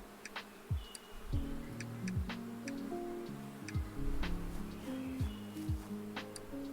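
Bees buzzing in the beekeeping video game Apico, a soft steady insect hum layered with game tones and scattered ticks and plucks, no talking.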